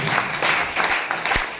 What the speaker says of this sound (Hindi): तो सर के लिए जोरदार तालियां होनी चाहिए।